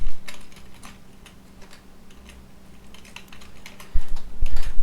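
A computer keyboard clicks steadily as PHP code is typed, a quick, close run of light keystrokes with a few heavier thumps near the end.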